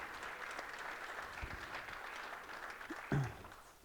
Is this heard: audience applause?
yes